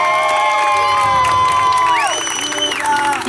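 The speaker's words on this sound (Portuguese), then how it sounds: "Uma salva de palmas para nossa homenageada." Guests at a party cheer and applaud for the woman being honored, with loud shouting, whoops and high-pitched cries layered over clapping from a lively crowd nearby.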